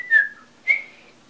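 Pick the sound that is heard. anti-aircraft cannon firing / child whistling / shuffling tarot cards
child whistling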